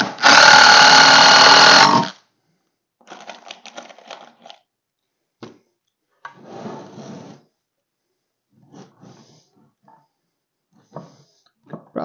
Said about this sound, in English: But this one I'm going to screw in the bottom, just through the bottom.